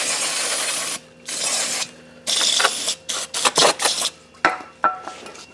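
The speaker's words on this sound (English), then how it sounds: "Brake cleaner. I'm going to spray it." Aerosol brake cleaner sprayed onto brake parts during a Honda Odyssey brake job: a series of loud, hissing bursts, a couple of long sprays followed by several short choppy ones as the can sputters near empty.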